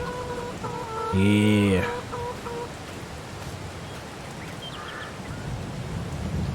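Chickens cluck in a farmyard in Farming Simulator 22, one brief loud call over steady ambient farm noise, with a fainter cluck later and a short spoken word.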